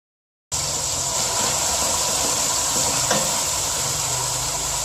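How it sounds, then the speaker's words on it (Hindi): Masala frying in a pan with a splash of water added, a sudden loud sizzle that bursts in and holds as a steady, crackling hiss, close by, with no talking. "थोड़ा सा पानी ऐड करेंगे"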